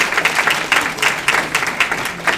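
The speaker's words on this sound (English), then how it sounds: "Please join me in giving them a round of applause." A banquet audience at an NAACP Freedom Fund awards dinner applauds a standing panel group, the clapping swelling in loose, repeated bursts across a couple of seconds.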